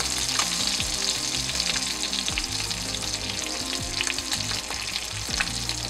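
Smelt fish frying in butter with salt and pepper in a pan, a steady dense sizzle with crackling pops and some stirring or utensil scrapes throughout, close and continuous with no talking.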